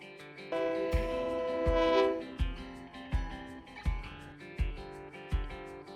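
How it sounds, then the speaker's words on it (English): The Scenic Oregon Coast Railroad train at Rockaway Beach sounds a sustained, multi-tone horn blast, followed by a regular series of heavy, rhythmic clunks from nearby. "we are about to ride the Scenic Oregon Coast Railroad."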